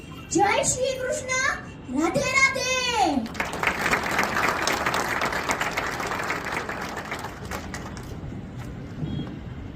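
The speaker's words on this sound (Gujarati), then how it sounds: "માટે જોરદાર તાળીઓ" A voice speaks briefly before an audience breaks into steady applause for a student named Shaurya, clapping filling the room for several seconds and then thinning out.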